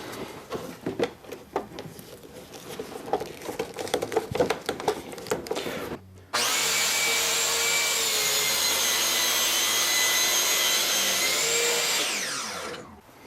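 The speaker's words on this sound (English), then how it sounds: "we'll reconnect the vacuum." Clattering and knocking noises give way to a loud, steady whine of a shop vacuum starting up on a woodworking saw, running evenly for several seconds before spinning down.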